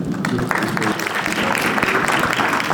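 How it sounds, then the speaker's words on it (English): A crowd applauds at a District 3 candidates forum with continuous, loud, dense clapping throughout, with a hint of voices beneath. "give yourselves a round of applause"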